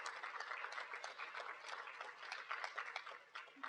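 An audience applauds social work students with steady, dense clapping throughout, faint and heard from some distance.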